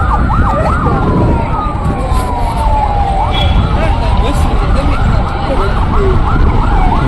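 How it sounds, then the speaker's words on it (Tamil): A wailing ambulance siren sweeps up and down continuously, loud and close, over heavy traffic and crowd noise, amid crowds in Madurai the day before a Vijay political rally. "ஒரு ஆம்புலன்ஸ் போயிட்டே இருக்குங்க"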